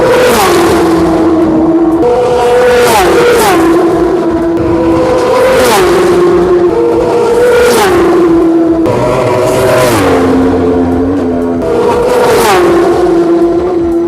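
Racing motorbikes at the Isle of Man road race scream past one after another in a loud, repeating series of high-revving Doppler sweeps, each roaring up close and fading as the next arrives.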